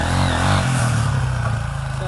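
A motorcycle revving hard and accelerating to lift its front wheel into a wheelie, a loud, close engine drone holding steady with a slight rise in pitch across the short span.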